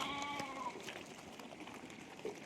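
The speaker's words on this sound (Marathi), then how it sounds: "इकडं बी पाहण्या मेंढ्या आणल्यात आहे अशी एक बारीकशी खाणे तर त्या खाणीत पाणी पाजाय आणल्यात" A flock of sheep brought to a small pit to drink water bleat faintly at a distance, with a few wavering calls early on over a quiet outdoor hum.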